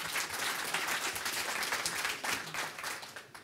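A studio audience gives a guest professor a sustained round of applause, dense, steady clapping that fills the room for several seconds without a break.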